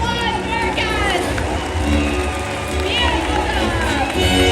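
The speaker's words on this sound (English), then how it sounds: "Everyone give a big round of applause for our guests." A large crowd at the SeaWorld San Diego Orca Encounter show applauds and cheers in a loud, continuous roar, with whoops and voices rising over the clapping.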